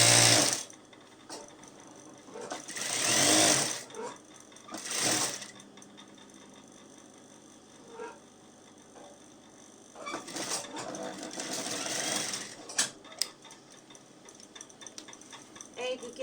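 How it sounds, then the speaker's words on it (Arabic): A sewing machine stitches children's fitted bed-sheet fabric in khayamiya print, running in several close, loud bursts of rapid mechanical whirring separated by short pauses. "بظبط الخياطه بتاعتي من هنا كويس جدا، وابتدي اخيط على طول"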